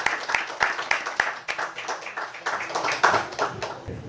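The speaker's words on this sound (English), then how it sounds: "So let's give a big round of applause for him." A small audience at a Bhagavad Gita talk gives scattered applause, sharp individual claps rising and fading in uneven bursts, close by and without talk.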